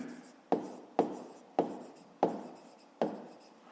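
Pen strokes in a notebook while doing a fifth-grade maths exercise, five sharp scratchy taps at an even pace, each fading quickly, close and clear with no talk.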